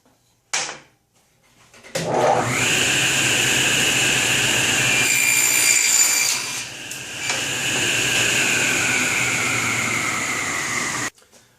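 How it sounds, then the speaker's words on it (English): A power saw cuts through wood to remove the rest of a rabbet, giving a sustained, loud whine for about nine seconds after a short start. "now I need to go ahead and cut off the remainder"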